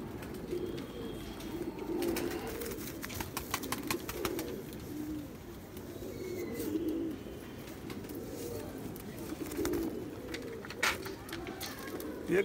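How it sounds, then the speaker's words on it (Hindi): Rampuri pigeons, in kalsara and kalpotiya colour varieties, coo steadily in low, rolling repeated phrases, close by and continuous, with faint chirps and small rustles above. "ये कबूतर बड़ी जल्दी नाराज़ हो जाते हैं हाथ में पकड़ना"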